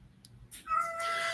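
A single house cat gives one short meow indoors, quiet and close, rising out of a soft background hum after a faint click.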